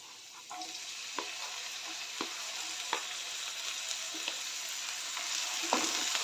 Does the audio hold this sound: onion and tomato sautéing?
yes